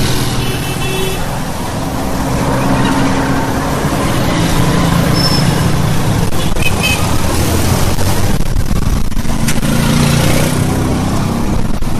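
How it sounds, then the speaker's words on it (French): Congested road traffic with cars and trucks in a jam, a dense continuous rumble of idling and creeping engines with occasional horn toots and tonal whines, loud and close throughout. "mais coincé dans la circulation."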